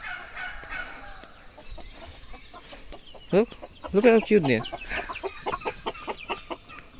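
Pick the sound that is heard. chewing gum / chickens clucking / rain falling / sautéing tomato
chickens clucking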